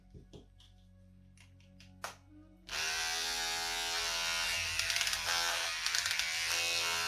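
A Wahl electric trimmer, fitted with a replacement battery, switches on after a few quiet clicks and runs with a steady, close, high-pitched buzz until the end.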